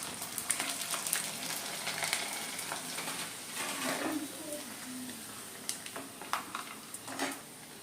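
Rice and spinach papad frying in hot oil in a kadhai: a steady bubbling sizzle with scattered crackles and pops, fairly loud and close, with no talking.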